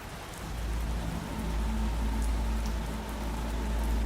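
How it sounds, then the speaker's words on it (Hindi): Steady rain falls at a high-altitude military base, a continuous soft hiss with a low rumble beneath and scattered drops. The level is moderate and no voices are present. "यहां कई दिनों से बारिश हो रही है"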